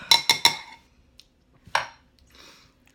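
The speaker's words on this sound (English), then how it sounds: "Just continue stirring it for a few minutes." A metal spoon clinks against a bowl while strawberry frozen yogurt mix is stirred, three quick taps close together, then a louder knock, a soft scrape and a last tap, all close and clear.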